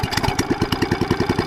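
Small engine of an irrigation pump motor chugging at close range, a fast, even, pulsing beat of firing strokes throughout.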